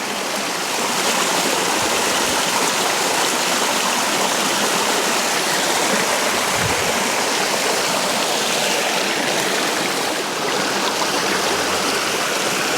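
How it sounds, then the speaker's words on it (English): A small waterfall on a feeder creek, heard from almost directly on top of it, gives a steady, loud broadband rush of falling and splashing water throughout. "I've moved virtually right on top of this little feeder creek here"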